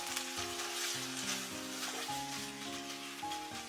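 Kung Pao chicken stir-fried over high heat in a wok, its sauce coating the pieces, gives a steady loud sizzle with spatula scrapes and a continuous hum, no voices present.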